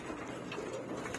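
Racing pigeons at their loft coo softly in a short, steady murmur, with no one talking.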